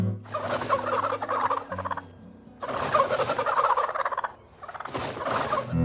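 A male turkey gobbles in spring in answer to calls, three loud rattling bursts in quick succession with short pauses between, close and clear with no voices.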